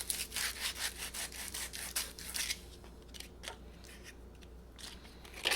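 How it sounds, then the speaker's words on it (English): Rapid back-and-forth scratchy rasping of sandpaper rubbing a 3D-printed PLA part, strong at first, then slowing into scattered, quieter strokes. "I'm just going to bring it here and start sanding."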